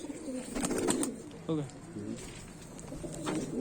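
Kaldume and kalpare pigeons coo close by in a crowded local loft in Bareilly, with a brief spoken remark over the soft, repeated calls.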